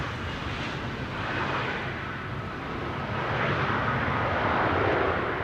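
An airliner taxis at Amsterdam Schiphol Airport toward runway 24, its engines producing a steady broad roar heard from a distance that slowly swells slightly louder.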